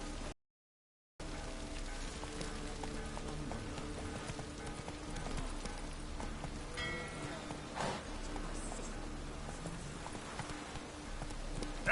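Roach the horse gallops in The Witcher 3, hooves clip-clopping in a fast, steady rhythm over a background like rain, with a brief dropout near the start and a faint voice partway through.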